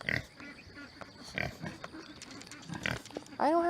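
Pig grunts come in short bursts amid farmyard background noise, with a louder snort near the end.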